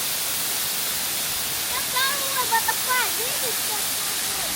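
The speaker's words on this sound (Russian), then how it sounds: "И это только одна ступень водопада." Steady roaring rush of one tier of a multi-tier mountain waterfall near Phnom Penh, Cambodia, filling the whole clip, with a few voices talking briefly over it in the middle.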